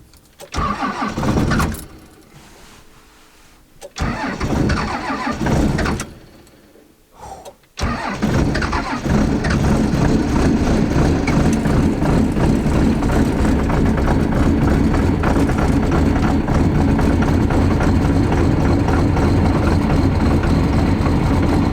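A smoky truck engine cranks in a couple of short bursts that falter and stop, then catches on a further try and settles into a loud, steady, rumbling idle close by.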